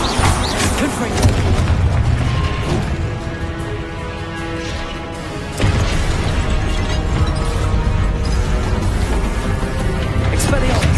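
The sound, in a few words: Confringo spell cast in Hogwarts Legacy video game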